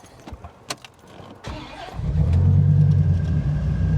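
A 1999 Dodge Viper GTS ACR Edition engine fires up after a few clicks and thumps, then settles into a loud, steady, deep idle rumble close by.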